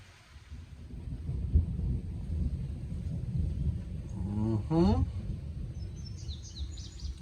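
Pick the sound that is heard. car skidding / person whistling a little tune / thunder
thunder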